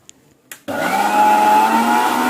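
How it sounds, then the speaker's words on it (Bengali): After a couple of faint clicks, a mixer grinder full of spinach roars to life and keeps blending loudly and evenly, a close whirring motor with no one talking. "এবার আমি মিক্সিতে ব্লেন্ড করে নিচ্ছি"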